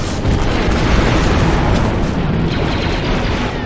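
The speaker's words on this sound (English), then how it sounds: "The charge is set and ready to detonate." A demolition charge going off in the Star Wars Republic Commando video game, a loud sustained blast with rumbling debris and roar filling the whole stretch.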